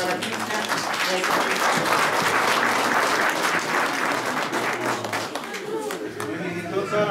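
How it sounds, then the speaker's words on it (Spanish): Church congregation applauding after a Mass in Angahuilca, Santa Ana de Tusi, a steady, full round of clapping from many hands that holds for several seconds, with faint voices mixed in. "un fuerte voto de aplausos para Andy y para Cristian"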